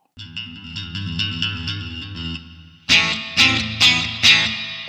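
A guitar plays a clean tone through the AmpliTube 5 amp simulator: a run of picked notes at moderate level, then a few louder, brighter strummed chords once the volume is raised.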